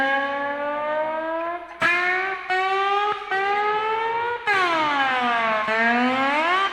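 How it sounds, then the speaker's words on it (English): A slide glides along a guitar string, producing smooth, singing notes that bend upward and downward in pitch, with a few fresh plucked attacks between long sustained, wavering glides played alone and clearly. "So when you slide on a string, it should sound like."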